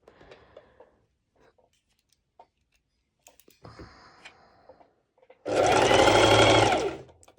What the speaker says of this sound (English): this is me doing the basting stitch